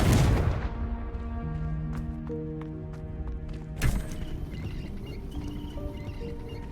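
The Confringo fire blast spell in Hogwarts Legacy sounds as a bright burst at the start, ringing tonal game music and scattered clicks, then a second whooshing blast midway, with no talking.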